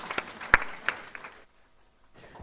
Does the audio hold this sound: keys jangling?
no